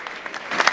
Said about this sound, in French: Applaudissez pour Gâteau, s'il vous plaît,